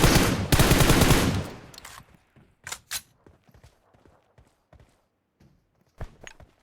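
A loud, rapid burst of automatic gunfire in a battle royale video game, followed by scattered single shots and softer clicks and footsteps, then one more sharp shot near the end.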